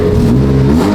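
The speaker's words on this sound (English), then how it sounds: "Let's rev it up." A car engine with a catless downpipe revs hard up close, a loud rising growl with strong low rumble throughout.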